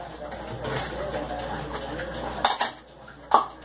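Dishes and cutlery clatter and clink as they are washed in a home kitchen during a morning routine, with a steady wash of background noise and a few sharper knocks near the end; faint voices may be present.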